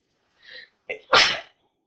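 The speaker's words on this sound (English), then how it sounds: "Sorry about that, I just sneezed" A single loud sneeze: a short inhaling gasp, then a sharp explosive burst, close up, with silence around it.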